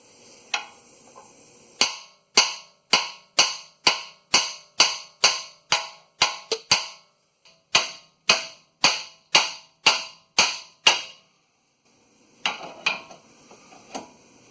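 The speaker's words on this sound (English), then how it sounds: "I think I'm going to use this hammer." Hammer striking a CV axle shaft during inner axle replacement on a 2015 Chrysler Town & Country: sharp metallic blows in quick regular runs of about ten, separated by short pauses, loud and close.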